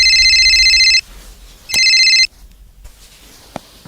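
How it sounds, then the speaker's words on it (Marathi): A phone rings twice in loud electronic bursts, each about a second long, then cuts off into quiet room noise with a faint click. "तुझा फोन असतोय का?"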